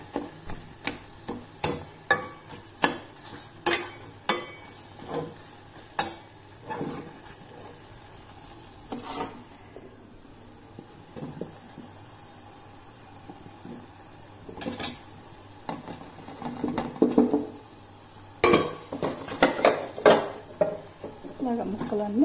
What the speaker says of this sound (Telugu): కారం కూడా వేసుకొని కలుపుకున్నాక మన దగ్గర ఉండే ఈ ముక్కలు కూడా వేసేద్దామండి.